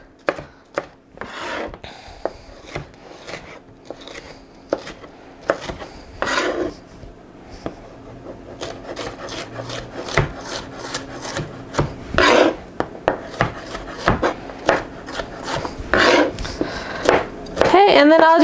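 Knife cutting through a rolled-out red pepper on a cutting board, a run of short scraping slices and chops that grow denser toward the end, with talk over parts of it.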